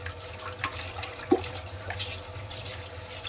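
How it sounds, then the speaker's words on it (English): A toilet with hard-water buildup flushes, giving a steady rushing, gurgling swirl of water that runs on throughout, with a single brief clunk partway through. "Let me just flush it."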